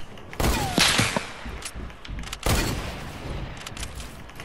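Video game gunfire rings out in a few sharp, loud shots, with two main bursts separated by a short gap and some echoing tail.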